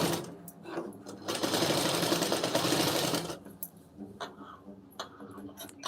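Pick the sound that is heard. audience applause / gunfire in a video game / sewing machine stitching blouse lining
sewing machine stitching blouse lining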